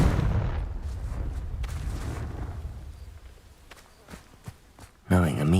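A Confringo fire spell from Hogwarts Legacy is cast at dry vines, a loud rumbling fiery burst that slowly fades with a few sharp crackles, then a short tonal, voice-like sound at the very end.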